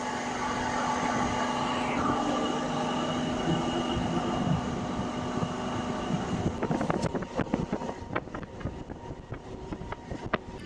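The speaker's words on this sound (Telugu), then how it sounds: "గట్కేసర్ నుంచి మన ట్రైన్ బయలుదేరిపోయింది" Warangal–Secunderabad MEMU electric train running after leaving Ghatkesar, a continuous rolling rumble with a steady hum, later joined by sharper rattling clacks of wheels over rail joints, heard from on board with no talk.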